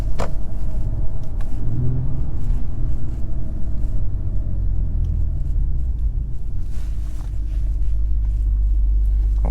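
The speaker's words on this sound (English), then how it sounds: "And the exhaust in sport mode, oh so addicting." A 2022 Acura TLX Type S in sport mode gives a steady, deep exhaust rumble with a low engine drone, heard from inside the car and continuous throughout without speech.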